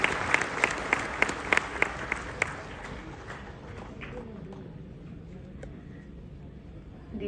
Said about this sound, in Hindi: हम तालियों से उनका स्वागत करेंगे।